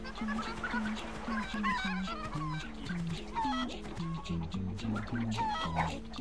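Chickens cluck and squawk in the PS2 game Crash Twinsanity, a busy run of short repeated calls set over game music and effects.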